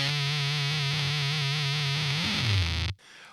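Heavily distorted electric guitar through a Beetronics Swarm fuzz pedal, a sustained buzzing low note with a bright fizzy top that bends and slides downward before cutting off abruptly into near silence.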